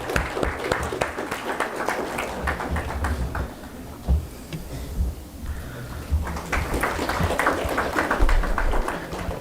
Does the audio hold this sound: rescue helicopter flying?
no